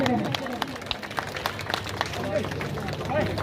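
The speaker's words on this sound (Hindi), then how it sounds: "ताली बजाते रहे।" A village audience at a Ladli Behna Yojana program in Chaubara claps in scattered, uneven bursts. The applause is fairly distant and mixes with murmuring crowd noise, while a voice speaks over a PA.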